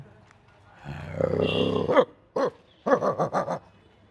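A man imitates dogs confronting a stray from another area: a rising growl leads into a snarl, then a run of short, sharp barks close to the microphone.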